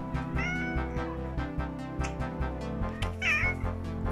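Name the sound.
cat meowing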